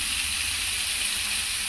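Chillies tossed into a hot pan while cooking kacchu pata daag with fish curry, giving a steady, close broadband sizzle that holds evenly throughout with no talk.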